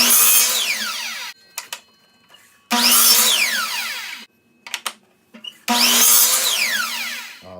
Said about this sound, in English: I've set my miter saw so it's cutting just slightly longer than